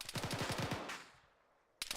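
A rapid burst of automatic rifle fire in the military shooter Arma 3 rattles out about ten quick shots, then echoes away into quiet before another sharp shot cracks at the end.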